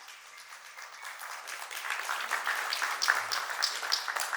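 Sparse, soft applause from a crowd at a breast cancer book launch, swelling slightly but staying thin and subdued.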